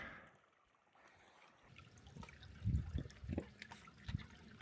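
A small stream on a solo backpacking trail trickles and drips, quiet at first, then closer and louder burbling splashes in uneven bursts.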